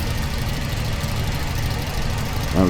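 Ultralight aircraft engine in Microsoft Flight Simulator 2020, a steady, droning mid-pitched buzz held continuously at constant volume, with a brief rising chirp near the end.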